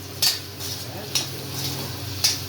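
Spicy egg masala with chilli powder, pepper and salt is stirred and fried in a pan. A spoon clinks against the pan three times at an even pace over a low background hum, with no clear speech.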